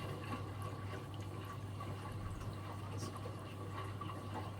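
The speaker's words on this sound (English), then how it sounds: "all you can hear is the water splashing on it" Water sloshes and splashes steadily inside a Fisher & Paykel WM1490F1 front-loading washing machine, a continuous wash over a low, constant motor hum.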